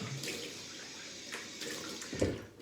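Hot water runs from a bathroom tap, a faint, steady splashing hiss with a few louder gurgles and drips near the end, no voices over it.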